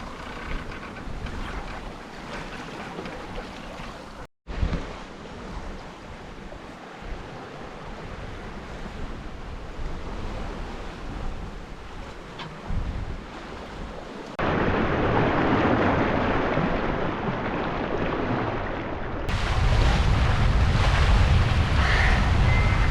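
Steady wind and rushing ocean waves surround a sailboat crossing the Atlantic from Mindelo, Cape Verde, in 12 to 18 knots of wind, with heavy microphone buffeting and louder surging wash toward the end.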